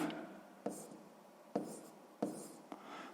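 Pen or pencil writing on paper while filling in a table, a soft, close scratching with a few distinct taps and strokes spread across a few seconds.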